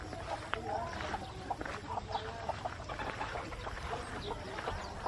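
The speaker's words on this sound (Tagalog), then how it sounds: "Hello mga manok." Chickens cluck and peep in scattered bursts over a steady outdoor farm background, with no voices.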